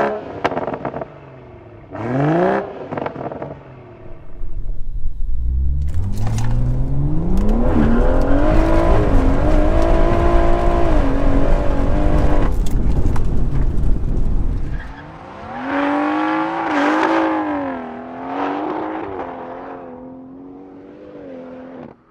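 A tuned 650 bhp BMW M140i launches hard from a standstill to 60 mph, its engine roaring loud and close as it revs up through the gears, with a tyre-squealing struggle for grip and sharp gearshift breaks between pulls.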